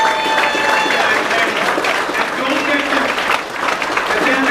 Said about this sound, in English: let's give Devin a little round of applause